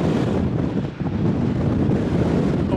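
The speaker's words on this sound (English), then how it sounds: "The wind is icy cold and it's all I can do to stand up." Strong icy wind gusts across the seaside promenade at Penzance at night, a loud, constant roaring buffet hitting the microphone with a brief dip before surging back.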